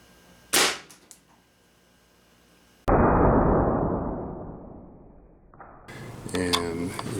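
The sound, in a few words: air rifle firing .22 H&N Terminator pellet into clay block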